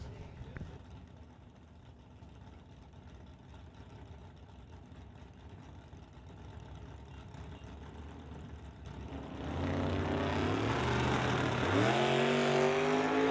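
NHRA divisional drag racing at Mission Raceway, a Ford called Old Yeller and an AMX launching down the strip: a faint distant idle gives way to a loud roar of engines revving and pulling away for the last few seconds.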